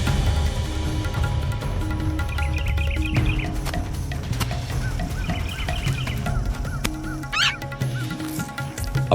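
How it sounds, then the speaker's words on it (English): Southern yellow-billed hornbill calls in the Kalahari, repeated clucking notes rising over a dense wildlife background with honking and cawing birds, fairly close and loud with no talking. "A flash of gold and a distinctive curved beak announce the arrival of the southern yellow-billed hornbill."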